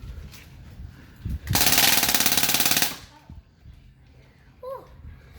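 A DPMS BB gun fires a single sustained burst on full auto lasting about a second and a half, loud and rapid-fire, with quiet room sound and faint movement before and after.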